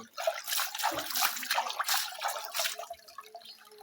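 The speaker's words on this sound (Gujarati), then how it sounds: "પાણી આવે છે ફૂલ" Water gushing and splashing from a tap, close and uneven, easing off toward the end.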